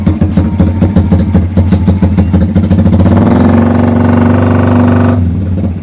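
A loud, steady mechanical buzz with a rapid chopping pulse from a homemade motor-driven helicopter sound maker, running close then cutting off abruptly.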